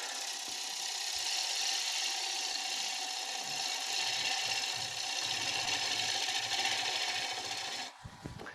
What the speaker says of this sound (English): So I put in a fresh bowl gouge, and this will be my final cut.